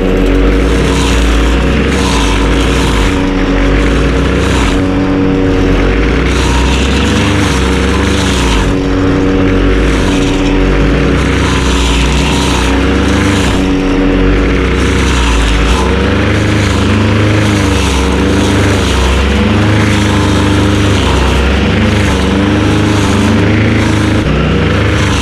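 A tractor engine running steadily and loudly nearby in a farm field, a continuous low rumbling drone with slight shifts in pitch, no speech over it.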